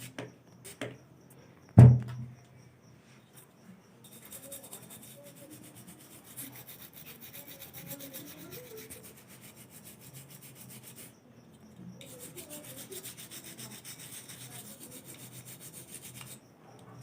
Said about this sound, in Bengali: তো আমরা থেনারের সাহায্যে ব্রাশ দিয়ে আগে ভালো করে সেটটা ওয়াশ করে দেখব।